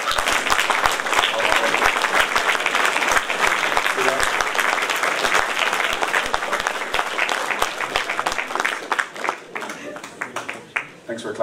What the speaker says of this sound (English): Thanks for clapping on your own there, dear.